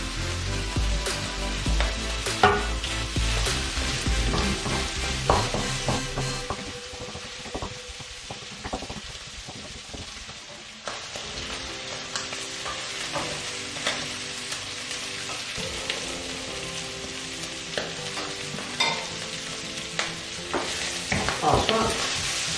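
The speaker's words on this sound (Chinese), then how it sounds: "这是超市里买的火腿末，好，往里面爆香" Minced supermarket ham is stir-fried in a hot pan, producing a continuous close sizzle broken by repeated scraping and clattering strokes of a spatula, with no voices.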